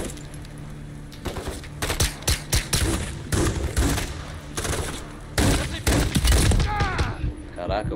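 Bursts of automatic gunfire and sharp shots from Call of Duty: Modern Warfare III ring out repeatedly in dense, loud volleys, with someone talking over the shooting at times.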